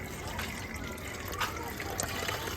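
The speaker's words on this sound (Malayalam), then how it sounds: "ആദ്യമേ നമുക്കിത് വെള്ളം ഒഴിച്ചൊന്ന്" A steady, close trickle of water pours onto potting soil throughout, with faint gurgles and splashes as it soaks in, and no talking.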